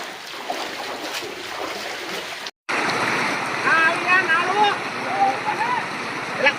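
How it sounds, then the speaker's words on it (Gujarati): Floodwater from heavy rain rushes through a home courtyard in a steady, close, hissing wash, with a brief cut partway through and people talking over the flow. "અત્યારે અમારા અહીંયા એટલો વરસાદ પડ્યો છે, અમારા ફરિયામાં પણ એટલું બધું પાણી આવી ગયું"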